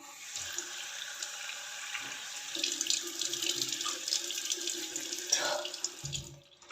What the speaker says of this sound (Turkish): Şimdi sıra yüzümü yıkayacağım.